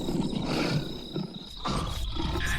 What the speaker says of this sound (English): You can hear the roar of a lion across the grasslands.